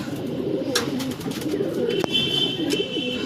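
A large Giribaz pigeon coos in steady, low throaty rolls close by, repeating without pause, with a single sharp tap midway and no talking.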